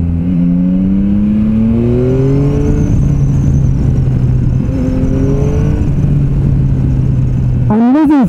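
Yamaha Tracer 9 GT motorcycle engine accelerating hard, a loud steady drone with rising engine pitch through two pulls, heavy wind noise throughout and a sharp rev burst at the end.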